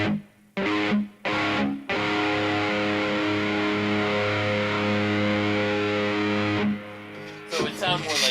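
Electric guitar played through a four-head delay with chorus, sustained distorted chords swelling and shimmering, broken by short stops at the start and a trailing fade near the end, loud and close.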